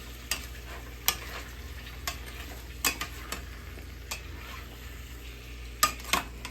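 Beef pieces for a cowboy stew cooking in a pot, with a low steady sizzle broken by scattered sharp ticks and clinks of stirring at irregular intervals, fairly quiet and with no voices.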